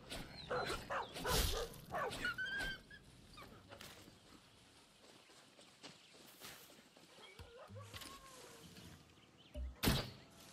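A companion dog in the Far Cry 6 video game gives short, scattered barks and whimpers amid gameplay sounds and footsteps, fairly quiet and irregular, with a sharper burst near the end.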